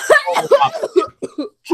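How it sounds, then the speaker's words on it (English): Several harsh, voiced coughs in rapid succession, close and loud, trailing off with short gaps between bursts. "Goes on a coughing fit."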